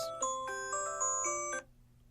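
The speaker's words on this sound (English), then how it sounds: "I didn't realize I set an alarm on my phone, and that was kind of a neat ringtone" A phone alarm plays a soft, chiming melodic ringtone of several bell-like tones in a steady rhythm, faint and clear, then stops abruptly, with no talk over it.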